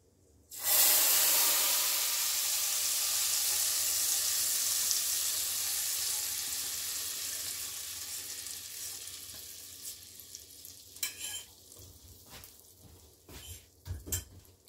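A hot spice tempering is poured onto a red bean rajma curry and bursts into a loud, close sizzle that fades slowly over several seconds, followed by a few clinks of stirring.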